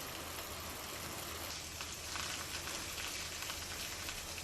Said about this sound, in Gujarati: તાલુકાના ગ્રામ્ય વિસ્તારોમાં ધીમી ધારે વરસાદ શરૂ